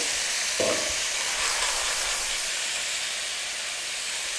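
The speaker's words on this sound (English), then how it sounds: "Extra virgin olive oil, 2 new cloves of garlic. And when the garlic is popping" Garlic cloves frying in extra virgin olive oil, a steady broadband sizzle with fine popping crackle that holds close and even throughout, with no voices over it.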